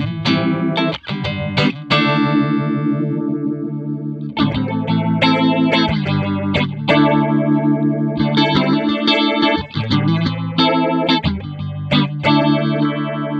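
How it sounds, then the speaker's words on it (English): Chase Bliss Audio Wombtone analog phaser pedal processing a guitar, loud and steady, with repeated strummed chords swirling through modulated phasing sweeps, short pauses between phrases, no voices. "let's mess around with the knobs and hear what the pedal does."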